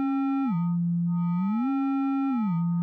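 A steady synth tone alone from a WMD Phase Displacement Oscillator, its pitch stepping down, holding, gliding back up and dropping again in a slow repeating pattern.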